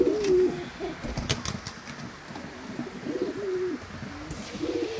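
Pigeons on a home balcony coo repeatedly in low throaty phrases while being fed, with several quick bursts of wing flapping and pecking taps nearby.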